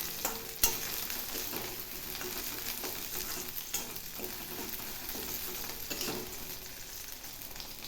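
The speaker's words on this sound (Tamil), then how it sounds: "இன்னும் ஒரு 2 நிமிஷம் நல்லா வதக்கி எடுத்துடலாம்" Shallots sauté in a pan for Chettinad vazhakai kola urundai, a continuous close sizzle with scattered scraping stirs and occasional sharper clacks of the utensil; no voices.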